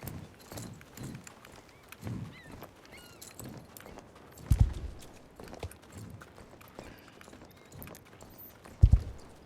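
A pony's hooves clip-clop in the game Star Stable Online, a soft, steady walking rhythm with a couple of sharper thuds from landings, heard alone without speech.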